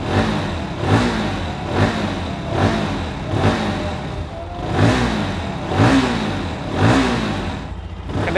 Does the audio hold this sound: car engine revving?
yes